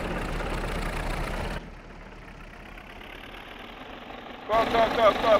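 Tractor engine idling in a Farming Simulator game, a steady mid-low rumble that drops quieter partway through before a louder burst of game sound at the end, with a voice talking over it.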